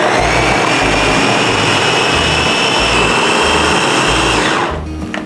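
An electric food chopper, model IL216J with a glass bowl, blitzes green chilies and garlic with a little water, a loud, close, steady whirring motor with a pulsing low throb that winds down and stops near the end.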